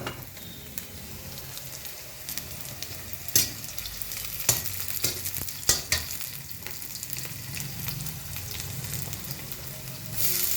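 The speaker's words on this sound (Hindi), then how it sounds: "इसमें आलू फ्राई कर लेती हूँ।" Potatoes fry in a pan with a loud, continuous sizzle close by, broken by sharp crackles and stirring scrapes, and no one speaks.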